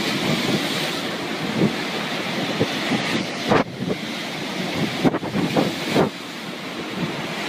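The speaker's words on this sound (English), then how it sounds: "A car is being swept away by a large wave." Large floodwaters crash in surging waves during a natural disaster, with heavy wind buffeting the microphone and no talking.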